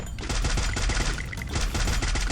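Rapid automatic gunfire from the mobile battle royale game Free Fire, a dense, loud, continuous rattle of shots lasting the whole stretch with no talk over it.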